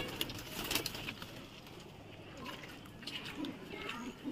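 A male Kalsire pigeon coos softly in a low, rolling pattern among other nearby birds, with faint speech and quiet background noise.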